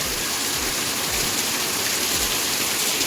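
Steady rain pours down outdoors during a Kamar Chhath festival day, a dense, even hiss with no pauses and no talk.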